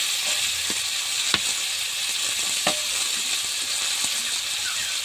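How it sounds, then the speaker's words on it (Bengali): Tomato pieces and onion frying in hot oil give a steady, close sizzle with a few sharp clicks from stirring, and no one speaks. "পেঁয়াজ তো তেলের মধ্যে দিলে খুব মিষ্টি গন্ধ বেরোয় এবার এই পেঁয়াজের মধ্যে টমেটো টুকরো কটা উঠিয়ে দিচ্ছি"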